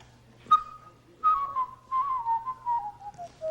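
A man whistles an imitation of a birdcall: a short chirp, a pause, then a longer sliding whistled phrase that wavers and falls in pitch, close and clear over a faint steady hum.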